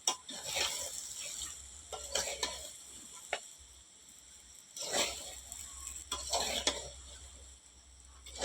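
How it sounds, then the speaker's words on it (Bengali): Mango pickle with sugar just added is stirred in a pan without water, a spatula scraping in several bursts over a steady low sizzle. "ভালোভাবে এইভাবে নাড়তে থাকবো"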